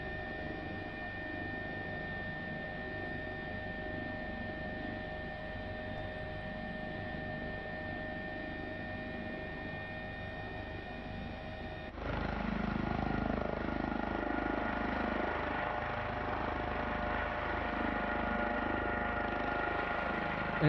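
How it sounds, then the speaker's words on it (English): A simulated Airbus H135 helicopter engine in Microsoft Flight Simulator over the Grand Canyon drones steadily, then shifts abruptly to a rougher, louder tone midway as thrust changes, continuous and alone without talk. "You can hear that thrust reduction."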